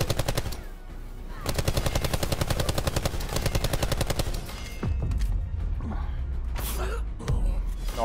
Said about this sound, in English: The guy's shooting at you the whole time.